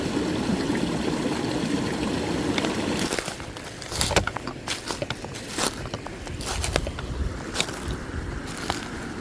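A small creek trickles and gurgles steadily in the background, while close footsteps crunch and splash through shallow water and over rocks for most of the stretch.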